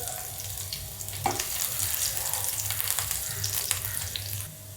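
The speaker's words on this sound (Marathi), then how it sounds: "आता मिरची पहिली परतून देरा मिरची" Green chillies sautéing in ghee in a pan for a fasting-day potato bhaji, giving a steady close sizzle with some watery crackle and a light stir clink near the start, no talk.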